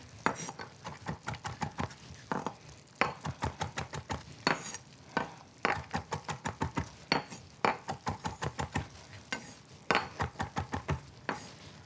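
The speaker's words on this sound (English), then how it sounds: "Cut some parsley." A knife chopping parsley on a cutting board in a home kitchen, with rapid rhythmic bursts of sharp taps separated by short pauses, close and fairly loud, and no talking.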